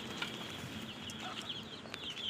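Farmyard chickens, turkeys and small chicks cluck and peep faintly at a distance, soft scattered calls over a steady background hiss.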